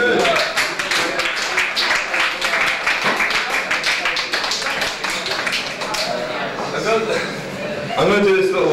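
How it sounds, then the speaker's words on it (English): An audience at a poetry reading claps in a dense, steady burst of applause that fades slightly, then swells again near the end, with voices mixed in underneath. "You can applaud, man."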